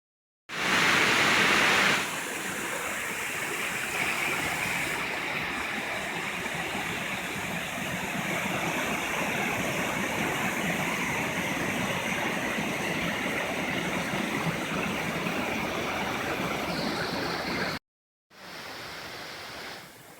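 The Cascadas de Pisa waterfall at Villabascones de Bezana pours in a steady, dense rush of falling water, close and loud with no voices, briefly cutting out near the end.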